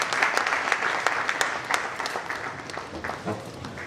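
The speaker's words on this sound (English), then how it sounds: "Please give her a round of applause." Audience applause at an inaugural pharmacy association event in Abuja, a steady wash of many hands clapping at moderate volume that thins slightly toward the end.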